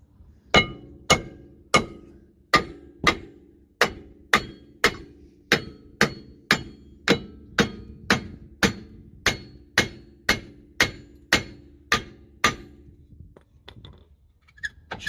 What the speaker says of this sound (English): Go around and give it a good whack with a hammer.